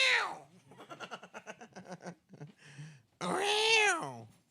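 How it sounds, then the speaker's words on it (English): A cat meows loudly and plaintively in a home, several drawn-out cries near the start and end, with people talking between them. "That's the cat."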